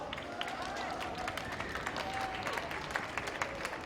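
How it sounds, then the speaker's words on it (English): Spectators at a polo match applaud both teams after a late goal, dense continuous clapping from an outdoor crowd across the whole stretch. "Let's give both these teams another round of applause."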